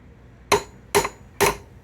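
Three sharp metallic hammer strikes on the horn of an anvil, evenly spaced about half a second apart, each a loud bright clang that dies out quickly with almost no ring.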